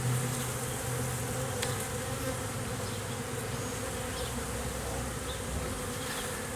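A honeybee swarm being introduced into a hive hums in a dense, continuous buzz close by, steady throughout with individual bees flying past.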